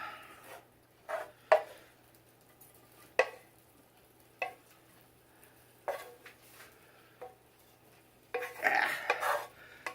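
Dishes and cutlery clink and scrape at a food prep table as a roasted bone-in, skin-on chicken pot pie meal is plated, with scattered sharp knocks and a busier clatter near the end, fairly quiet overall.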